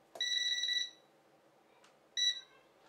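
Two short electronic beeps from small headphones as they are plugged in to charge: a longer tone, a pause with a faint click, then a briefer second beep.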